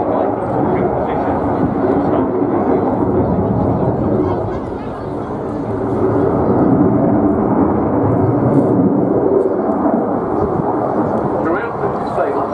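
A Saab Gripen fast jet flies a display at the Royal International Air Tattoo, a steady loud roar of jet engine that swells and dips slightly while a commentator talks over it.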